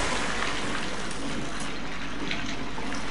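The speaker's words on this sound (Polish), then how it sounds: "Teraz, Harry, spróbuj użyć zaklęcia Glasius, żeby zamrozić płynącą wodę." Flowing water in a Harry Potter video game rushes steadily as the Glasius freezing spell is cast on it, a constant close gushing wash with no break.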